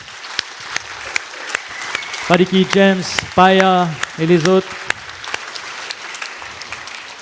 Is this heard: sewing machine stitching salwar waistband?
no